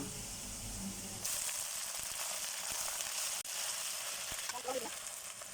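Freshly washed jute leaves hit a pan of lightly fried onion and garlic and set off a loud, continuous sizzle and hiss. It carries on steadily, with faint stirring noises partway through.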